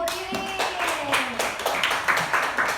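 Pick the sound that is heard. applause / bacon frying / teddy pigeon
applause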